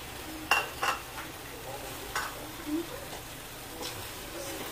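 Shrimp paste stirred with pork in a pan, a utensil scraping and knocking in a few distinct strokes over a low sizzle, with a brief voice murmuring in the background.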